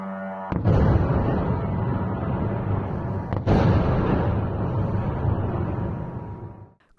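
Two heavy explosions from a drone attack boom in succession, each followed by a long, rumbling roar that gradually fades away.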